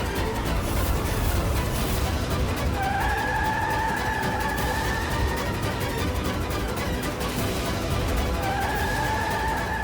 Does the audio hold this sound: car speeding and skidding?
yes